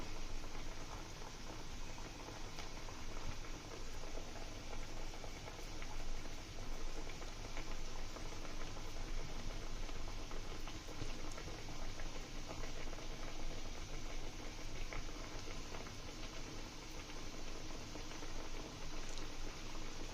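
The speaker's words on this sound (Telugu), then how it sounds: "మంచిగా ఫ్రై అవుతుంది అన్నమాట" Bottle gourd vadas fry in hot oil in a small pan, a steady, dense sizzle and crackle that holds at an even level throughout with no talking.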